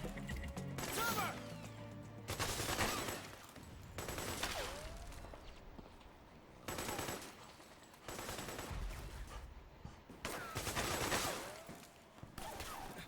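Gunfire in Metal Gear Solid 4, set in South America, arrives as repeated heavy bursts of automatic fire with short pauses between volleys, loud and close, with faint voices in between.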